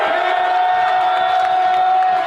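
A large stadium crowd roars and cheers steadily after a Chicago Bears playoff win, a loud, sustained wall of voices with scattered whoops.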